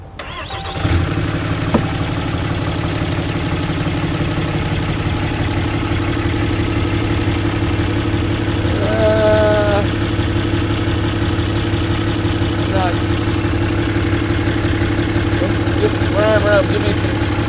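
A Cummins 6.7L diesel truck engine with straight-piped, deleted exhaust starts and then idles with a loud, steady low rumble close by, while people talk briefly over it.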